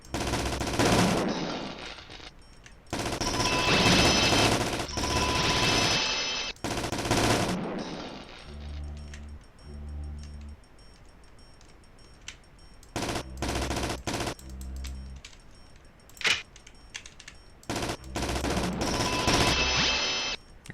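Automatic gunfire in the game System Shock Enhanced Edition, with long loud sustained bursts broken by quieter gaps and short pulsing shots, and no talking.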